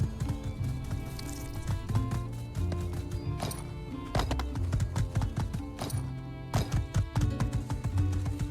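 In My Time at Sandrock, a horse's hooves patter in quick, regular beats beneath game music, a fairly loud and steady rhythm.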